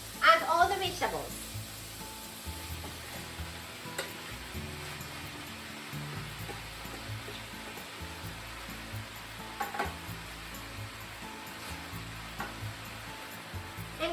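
Pork and cabbage with other vegetables sizzle in a pan, a steady soft crackle close by with occasional clinks of stirring.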